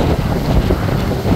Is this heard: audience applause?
no